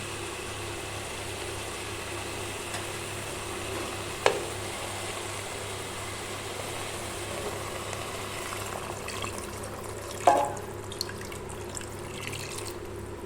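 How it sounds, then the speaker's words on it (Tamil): Water poured into frying chicken masala for Tamil-style chicken varuval, a low steady sizzle and bubbling with occasional clinks of a spoon stirring the pan, heard up close without talk. "இப்போ வந்து நம்ம தண்ணி சேர்த்துக்கலாம்."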